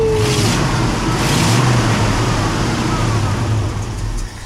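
A 1968 Ford F250 truck engine runs and revs close by, a loud, throaty rumble that swells and eases through several rev changes before dropping off near the end, with no talking.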